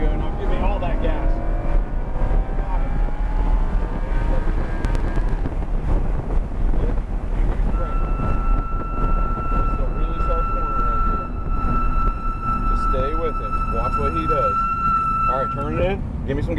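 A car roars at full throttle on a racetrack at a track-driving experience event near Miami. The engine drone and wind rush hold steady, with a rising whine joining midway and a voice speaking over it.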